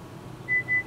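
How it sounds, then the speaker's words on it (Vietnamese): A Sony Bluetooth speaker gives two short, clean electronic beeps in quick succession when its button is held, close up over a quiet room hum. "giữ 5 giây, nó kêu bíp bíp"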